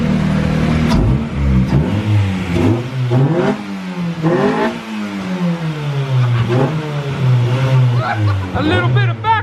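A 600hp D16 engine car revs hard and repeatedly, loud and close, with sharp crackling backfire pops near the end and someone talking over the engine.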